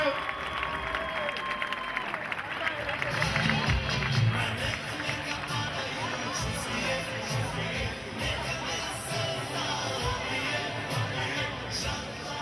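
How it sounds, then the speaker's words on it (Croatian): Crowd applause and cheering for fighter Marko Antonio Crvenković at a BFC 5 street-fight MMA event in Tuzla, a steady dense clapping roar that fills the hall with voices mixed in. "Jedan veliki aplauz za Marka, dame i gospodo."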